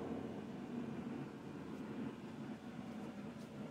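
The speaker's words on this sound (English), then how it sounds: "I hope you can hear me over the exhaust" An exhaust fan runs inside a mushroom grow tent where lion's mane is growing, producing a steady low whooshing hum, faint and continuous throughout.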